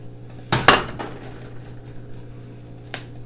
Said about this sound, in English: I'm going to put the onions in here.